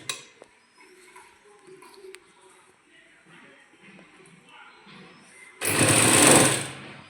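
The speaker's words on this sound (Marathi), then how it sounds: "आपल्याला शिलाई मारून घ्यायची आहे" A sewing machine stitches piping onto a round blouse neckline, a loud steady whirring burst near the end after quiet handling and rustling of fabric.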